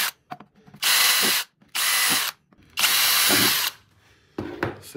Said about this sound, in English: and their drill bit that they send you, and drill these holes out